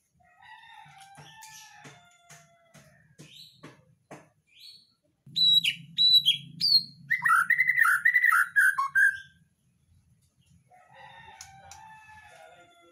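An oriental magpie-robin sings bright, varied whistled phrases and trills, loud and close, with a dense burst in the middle and a quieter stretch after a pause.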